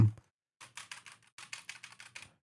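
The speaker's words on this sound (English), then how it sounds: "It is a Hall Effect keyboard." Rapid keystrokes on a plastic Hall Effect keyboard, two quick bursts of clicky, hollow taps separated by a brief pause, close and fairly quiet in an otherwise silent room.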